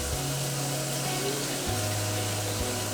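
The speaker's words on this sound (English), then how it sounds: "Take it to the sink and fill it up." Tap water runs steadily into a pot at a kitchen sink as it is filled for homemade chicken stock, a constant close rush with a low pump-like hum that shifts pitch partway through.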